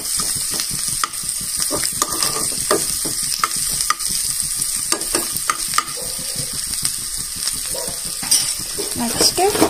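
Chopped coriander is stirred into a sizzling tempering for ridge gourd chutney, with a steady frying hiss broken by repeated clicks and scrapes of a spoon against the pan, close and clear.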